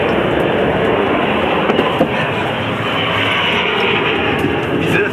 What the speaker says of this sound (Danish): Der er vores fine helikopter.